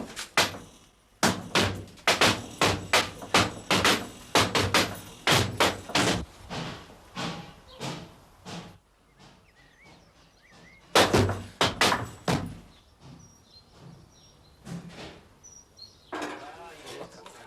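Sledgehammer smashing a safe during a 1988 robbery reconstruction, a run of loud, sharp metallic bangs in quick succession, pausing, then resuming in another burst, with a voice briefly heard between blows.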